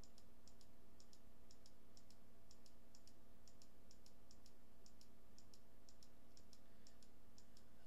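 Computer keys are tapped and buttons clicked in small quick clusters, faint and evenly spaced over a steady low background hum.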